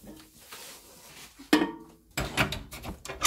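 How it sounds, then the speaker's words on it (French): A door at a fireplace where a bird is trapped in the chimney is opened with a few close clunks, a knock and scraping rattles, with no voices. "Voilà, on a bien ouvert la porte."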